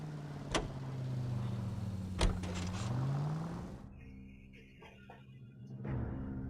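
A car in the video game L.A. Noire starts and drives off: a steady engine hum with a rising whine and two sharp clicks, then a quieter stretch with mechanical clunks.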